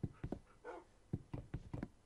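Minecraft dog barking in quick short yaps, several close bursts in an uneven rhythm with a brief whimper among them, faint and alone without talk.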